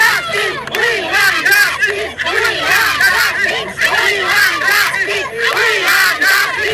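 Kamalpur villagers, torches in hand, chant a protest slogan for Boro Durga in a dense, loud crowd, voices rising and falling in a steady rhythmic cadence throughout.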